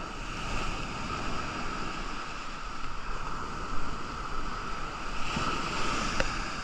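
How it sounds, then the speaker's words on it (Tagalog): Strong ocean waves at a surf beach in Elyu roar in a constant, heavy wash with wind noise on the microphone, swelling slightly at moments, with no voices over it. "Ang lalakas kasi ng alon"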